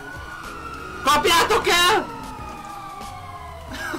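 A police car siren in the video game GTA 5 blares in a brief, loud, warbling burst of about a second, with people talking over the game sounds before and after.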